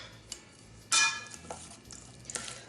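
A spoon mixing salmon poke with onions and Fresno chiles in a bowl, close and fairly quiet: a few light taps and scrapes, with one louder clinking stir near the one-second mark.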